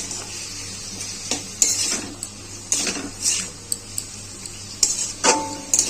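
Salt-and-lemon marinated chicken goes into a pan for egg chicken tadka and is stirred. Irregular metal scrapes and clanks of the spatula sound close by over a faint, steady sizzle.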